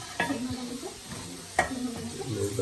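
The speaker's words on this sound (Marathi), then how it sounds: "परतून घेतले मसाला टाकते" Spices with turmeric are being sautéed and stirred in a pan, with a steady low sizzle under a few sharp scraping strokes of a spoon against the metal, all close by.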